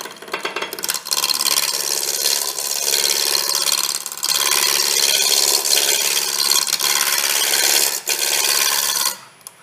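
A wood lathe spins at about 1,000 RPM as a gouge cuts into the turning blank at a woodturning club demo, giving a loud, continuous scraping rasp with brief pauses between passes.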